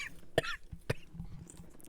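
A man coughs several times in quick, harsh bursts close to the microphone, with a throat-clearing rasp between them in a quiet indoor setting.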